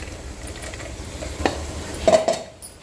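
Crumbled bhakri is stirred with masala paste in a pan, soft scraping and a low sizzle with a few sharp utensil clinks near the end, close and fairly quiet.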